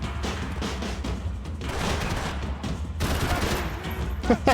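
Max Payne 3 shootout gunfire rattles in dense overlapping bursts, with loud close shots and echoing volleys running almost without a break.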